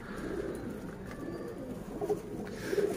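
Soft, low golden pigeon coos repeat steadily at close range over a faint background hum, with no one speaking.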